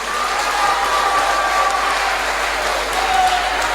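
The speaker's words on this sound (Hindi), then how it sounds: "मित्रों, एक बार जोरदार तालियां आदरणीय योगेंद्र जी के लिए।" An audience at a live poetry recital in Alwar applauds poet Yogendra Sharma with continuous, dense clapping at a steady loudness throughout.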